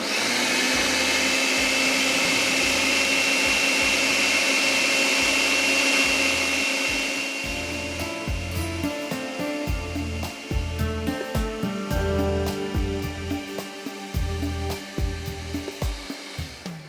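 An electric grinder whirs loudly and steadily as it grinds dry ingredients finely for Lab-e-Shireen, a dessert, then slows into choppy, pulsing bursts as the load shifts, with no voices over it.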